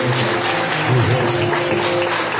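A church congregation applauds in a dense, steady wash of clapping, with some voices mixed in throughout, at a worship service.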